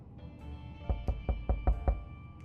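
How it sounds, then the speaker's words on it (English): A series of six evenly spaced, solid knocks on a shelter door in 60 Seconds! Reatomized, close and fairly loud, rapping in a steady rhythm over a soft sustained musical background, with no voices. "Another knock on day 12."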